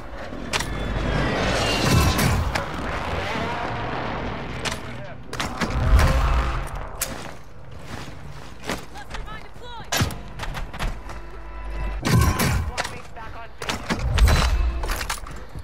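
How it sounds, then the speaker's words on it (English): Video game gunfire on Ashika Island: sharp single shots and short bursts crack out at irregular intervals, some near and heavy, others thinner and farther off, while players talk over the action. "Oh, he's just shooting at me."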